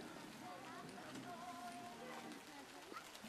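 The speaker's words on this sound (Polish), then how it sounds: "No niestety, deszcz już zaczął padać." Soft, steady rain falls in a forest beside a lodge at the Kocierska mountain pass, a faint continuous patter of drops heard alone, with no voices.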